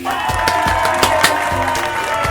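Brief burst of clapping and cheering from a crowd, loud and dense, lasting about two seconds.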